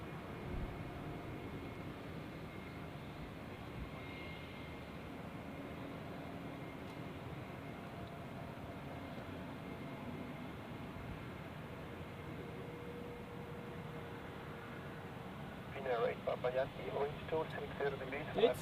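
A Finnair airliner arriving at Zurich airport makes a steady, distant, muffled roar that goes on at length, with voices talking over it and some sharper bursts near the end.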